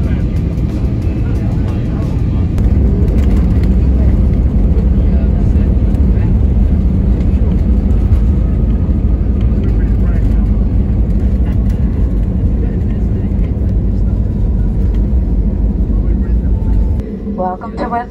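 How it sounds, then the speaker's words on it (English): A Frontier Airlines Airbus A320neo touches down on runway 10 left at West Palm Beach International Airport, heard from inside the cabin as a loud, steady low roar with rumble that eases near the end. "please join me as we land here in West Palm Beach International Airport on runway 10 left"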